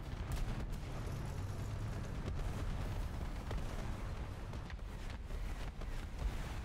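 Rumbling booms and sharp blasts go off repeatedly over a constant low roar, like heavy explosions and cannon fire in a battle, from War Thunder tank combat.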